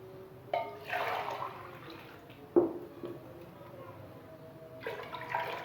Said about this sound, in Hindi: तीन गिलास हमने पानी डाल दिए हैं।